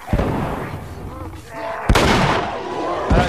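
Gunfire in The Last of Us, a survival shooter: loud close shots, one at the start, a sharp blast near the middle and another toward the end, with someone talking over the action between the shots.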